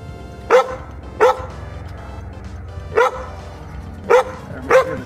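Taffy, a playful pup, barks in five sharp, loud bursts, three of them spaced widely apart and the last two close together, with a steady low rumble running underneath.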